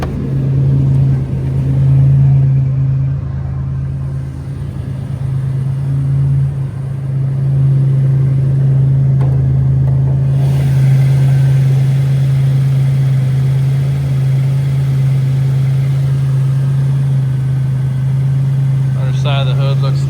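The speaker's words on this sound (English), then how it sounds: "Idling real nice." A 1986 Buick Grand National idles smoothly inside a metal building, a steady low engine drone running throughout while someone talks over it.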